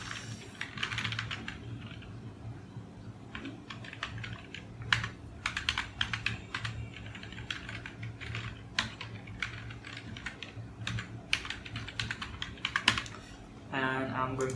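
Someone types an email address on a computer keyboard in steady runs of quick, close key clicks with brief pauses over a low background hum, and nobody speaks.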